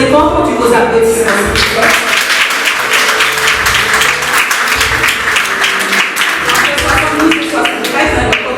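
A crowd at a civic ceremony honouring couples married over fifty years claps throughout, with steady applause mixed with voices and background music.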